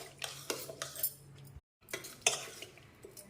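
A spoon stirs gongura dal in a pot, giving repeated scraping and clinking strokes in an irregular rhythm, close and fairly quiet, with a short break partway through.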